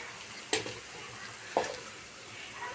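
Ginger frying in a pan, a soft steady sizzle with two sharp stirring scrapes, quiet and close with no talk.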